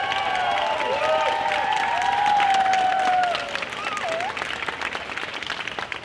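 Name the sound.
audience applause after a children's choir concert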